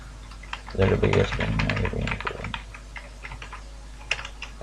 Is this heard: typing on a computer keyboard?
yes